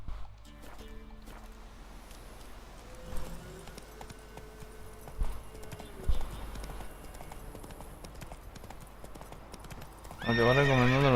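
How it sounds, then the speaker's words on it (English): A horse in The Witcher 3 video game clip-clops along at a walking pace, snorting and neighing, with a louder whinny near the end and game ambience underneath. "Whoa there, Roach"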